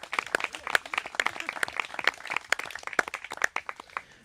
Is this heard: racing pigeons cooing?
no